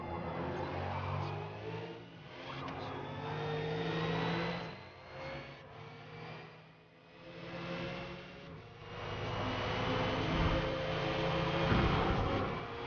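Racing car engines in a Forza video game, a McLaren 720S among Porsches and a BMW, roar and rev, rising and falling as the cars accelerate and ease off, loud and continuous with no talking.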